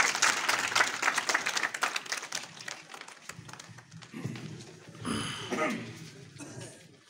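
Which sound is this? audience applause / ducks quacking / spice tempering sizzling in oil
audience applause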